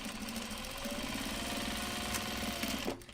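Sewing machine stitching a seam on a drawstring project bag, a close, steady rapid mechanical whir and chatter that runs evenly, then stops abruptly near the end, with no one talking.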